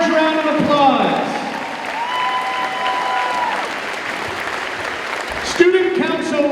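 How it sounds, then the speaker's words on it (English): A loud gymnasium crowd at a high school pep rally claps and cheers for the student council advisor, with a continuous roar of applause, shouts and whistles throughout. "And she needs a large round of applause."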